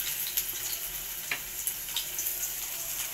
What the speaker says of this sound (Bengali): আদা কুচি আর রসুন কুচিটা আমি একটু ভেজে নেব